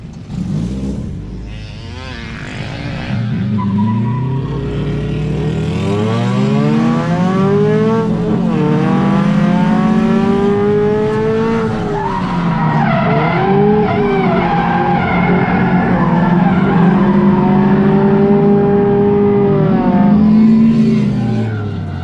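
A drift car's tires skid and squeal loudly as its angle kit over-centers, the long wavering screech rising and bending over the roaring engine and continuing throughout with no talking.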